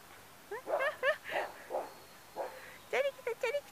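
A dog barks repeatedly at a bicycle passing on a street, giving short yipping barks in uneven bursts, fairly close, with a person speaking at moments between them.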